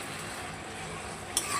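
Spiced masala and potatoes sauté in a pan with a steady sizzle and soft stirring scrapes, and a brief utensil clink near the end.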